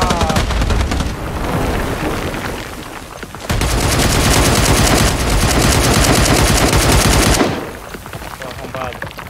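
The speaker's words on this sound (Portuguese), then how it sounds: "Tem um cara me atirando de Scourge aqui, ó, do dormitório, cuidado." Scourge weapon gunfire in the Badlanders video game, dense rapid automatic bursts running almost continuously, loud and close, with one long sustained volley in the middle.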